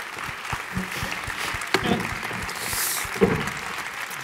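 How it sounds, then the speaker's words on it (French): Audience applause at a neighbourhood meeting on ecological, energy and social transition, a sustained even wash of clapping with a couple of louder sharp claps near the middle, no voices over it. "un tonnerre d'applaudissements"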